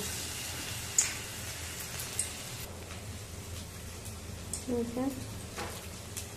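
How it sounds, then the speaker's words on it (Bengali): Fritters (bora) frying in hot oil in a wok, with a soft, steady sizzle throughout and a couple of sharp clinks and a brief bubbling burst near the end. "আমি এখন এই বড়াগুলো ভেজে নেব"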